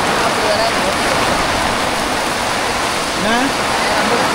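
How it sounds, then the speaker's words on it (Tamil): Heavy monsoon rain pouring down while runoff water rushes along like a small stream, a dense steady roar of water throughout, close and loud, with no clear voices. "இது பாருங்க தண்ணியா வாய்க்கால வர மாதிரி வருது"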